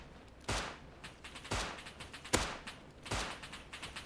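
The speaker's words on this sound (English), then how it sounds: "you see how the bullets are flying all over the place" Gunfire in the video game Rust, sharp cracking shots in an irregular sequence about once a second with rattling trailing echoes between them, loud and close without speech.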